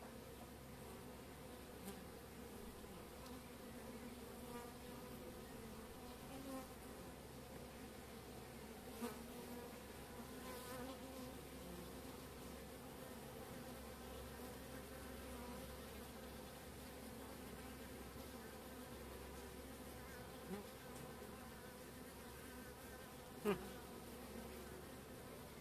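A hive of honey bees hums in a continuous, even drone for the whole stretch, fairly faint, with a few small knocks and one louder tap near the end, and no voices.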